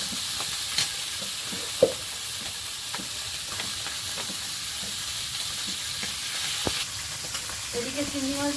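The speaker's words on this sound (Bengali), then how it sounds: "মাছগুলো সব ভেজে নিচ্ছি এখন" Steady sizzling hiss of river fish frying in hot oil, with occasional light clicks and scrapes of stirring; a brief voice near the end.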